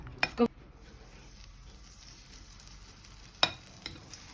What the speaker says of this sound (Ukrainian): і починаємо жарити